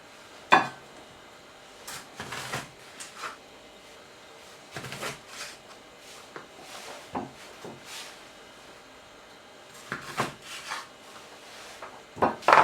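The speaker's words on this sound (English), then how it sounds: "Quarter the tomato." A knife cuts a tomato into quarters on a wooden board. Sharp, separate knocks of the blade hitting the board are spaced across the clip, with softer slicing and rubbing sounds between them and no talking.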